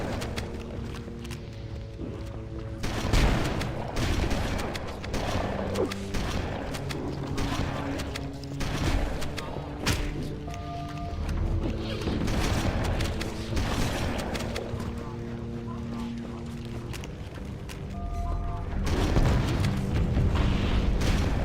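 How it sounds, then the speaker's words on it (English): Explosions in the Halo video game boom again and again amid a dense battle, loud blasts and bursts layered over game music and continuous combat noise across the whole stretch. "There's so many explosions."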